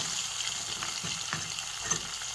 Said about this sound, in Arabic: شوفوا البنات راهي تقلى. درت تقلى نزيد هذيك البصله صغيره.